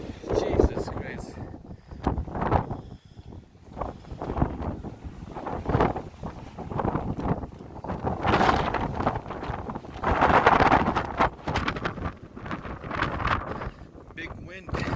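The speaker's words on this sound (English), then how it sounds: "Big wind. We'll go back inside. No. 32-kilometer wind. Snowing." Strong blizzard wind of about 32 kilometres per hour with snow, blowing outdoors in a city storm, heavy gusts buffeting the microphone in rising and falling roars, with voices speaking under the wind.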